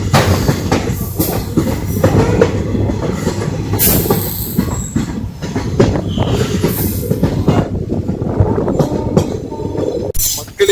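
Loud, close rumble of an express train in motion between Punalur and Tenkasi, wheels clattering over rail joints with occasional high squeals, continuous throughout with faint voices underneath.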